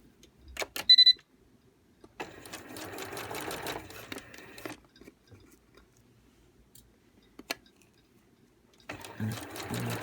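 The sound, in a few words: sewing machine stitching a lap zipper on a skirt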